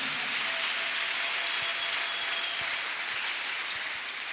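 A church congregation applauds in a steady, dense wash of clapping that holds loud and even throughout, with no voices standing out.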